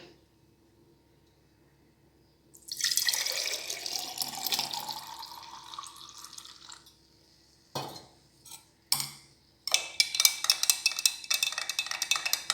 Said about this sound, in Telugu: అలానే మజ్జిగ వేద్దాం దీంట్లో.